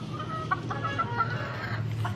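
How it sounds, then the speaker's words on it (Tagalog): Faint clucking gamefowl, White Hatch and Kelso birds on a game farm, sound a few times over a steady low background hum, distant and soft. "mga manok"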